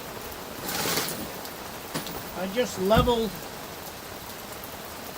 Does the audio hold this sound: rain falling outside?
yes